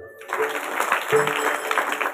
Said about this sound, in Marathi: का तुमच्यासाठी तुम्ही टाळ्या वाजवा